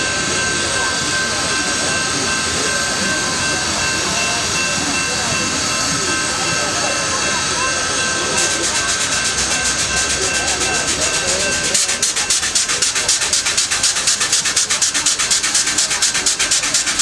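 Union Pacific 4014, an oil-fired steam locomotive fitted with smoke deflectors, passes through Greeley, Colorado: a continuous loud rumbling roar, with rapid rhythmic exhaust chuffs building toward the end, and voices in the background.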